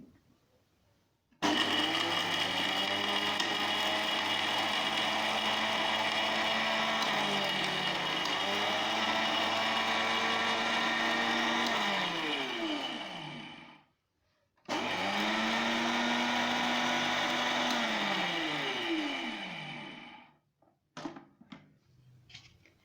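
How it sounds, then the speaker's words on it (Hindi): An electric spice grinder whirs loudly, grinding hard nutmeg and mace in two steady bursts with a short pause between them, its motor pitch dipping and recovering as the pieces break down, then rattling briefly as it stops. "जायफल जावित्री थोड़ी हार्ड होती है, इसलिए हम इसको अलग से पीस लेंगे।"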